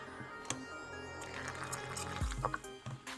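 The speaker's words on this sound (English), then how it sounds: "instead of baking soda, I'm going to be adding borax this time" Borax goes into a lavender slime mixture: a short, wet splash and slosh of liquid lands partway through. Soft dripping and light handling noises surround it, all quiet and close.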